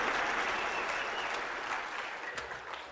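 An audience gives sustained applause after a speech by Ron Paul at Jekyll Island, a dense clatter of clapping that slowly fades.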